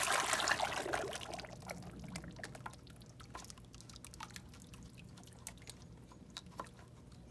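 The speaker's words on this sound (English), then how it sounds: "Pour off the clay into it." Liquid clay poured from a bucket of about 2.5 gallons into a sheet-lined pit, a splashy pour at first that tapers into scattered drips and trickles, close and soft.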